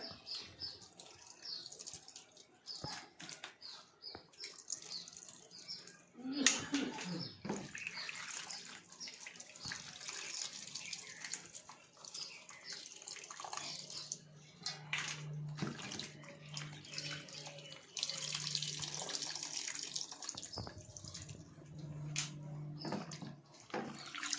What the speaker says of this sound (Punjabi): ਹੁਣ ਆਪਾਂ ਸਾਫ਼ ਪਾਣੀ ਪਾ ਕੇ ਨਾ ਇੱਕ ਵਾਰੀ ਇਹਨਾਂ ਨੂੰ ਨਿਚੋੜ ਲਾਂਗੇ